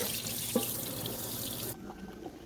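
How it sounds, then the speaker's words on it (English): Steady tap water runs into a sink as pumpkin pieces are rinsed, a continuous close rush with a brief clunk, then the flow stops and leaves faint drips and handling sounds. "We're gonna rinse it out and then let it boil."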